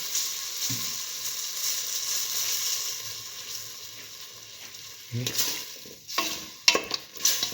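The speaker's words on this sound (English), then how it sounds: "Now put in the coconut ginger mixture that we ground earlier." A ground coconut and ginger mixture fries in a pan with a continuous sizzle, then brisk stirring and scraping picks up near the end.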